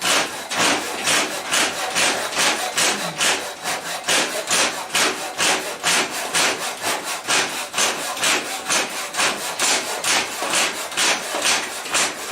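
A Lidl Japanese pull saw cuts through wood on a bench in steady, rhythmic rasping strokes, close and loud and evenly paced throughout, with no voices.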